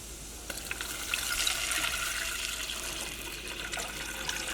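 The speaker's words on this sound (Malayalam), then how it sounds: "ഇതിലേക്ക് നമ്മൾ റൈസ് വേവിക്കാനുള്ള വെള്ളം ചേർക്കുകയാണ്." Water poured steadily into a cooking pot to boil rice, a continuous close splashing stream lasting the whole stretch with no talk.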